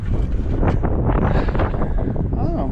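Wind gusting outdoors on a cold day around 45 degrees, a steady broadband rush buffeting the microphone throughout, loud and close, with some faint talk mixed in.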